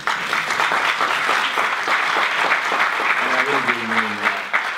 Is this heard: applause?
yes